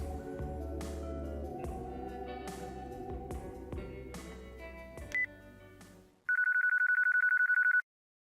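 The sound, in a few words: cell phone call ringing in video game Yakuza 4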